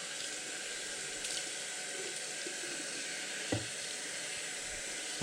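Sprouts being rinsed with water in the early sprouting stage, a faint, even hiss of flowing water throughout with a soft knock near the end and no voices.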